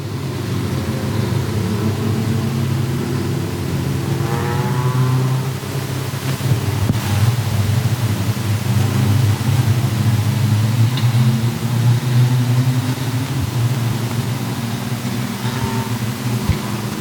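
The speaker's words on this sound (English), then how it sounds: "The green is out and we're racing." Race cars at Sauble Speedway roar around the oval in a Dash for Cash race, a loud, continuous engine drone from the pack with rising and falling pitch as cars pass.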